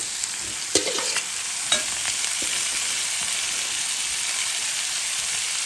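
Spinach and onion sizzling in a pan with a steady, soft frying hiss, broken by a few sharp clicks of a utensil stirring against the pan early on.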